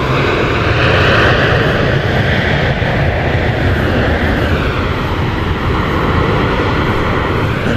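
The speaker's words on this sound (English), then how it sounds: "737-700 arriving from Houston Hobby Airport in Texas" A Boeing 737-700 arriving at Dallas Love Field produces a loud, steady jet roar and rumble that fills the scene continuously, broad and close, with no voices.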